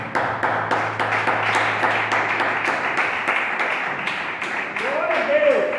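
A church congregation claps at a teaching service, with loud, uneven rhythmic claps running throughout and a voice speaking over them. A drawn-out tone rises near the end.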